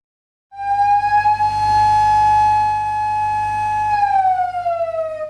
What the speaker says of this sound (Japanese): 偽パトカーがサイレンを鳴らし、赤色灯をつけて逃走したのです。